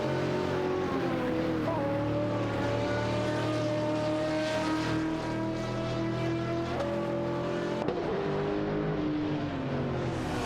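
Maserati MC12 GT1 and Koenigsegg CCGT race in a video game, their engines droning in loud, continuous layered tones whose pitch rises and falls through gear changes, with a brief jolt near the end.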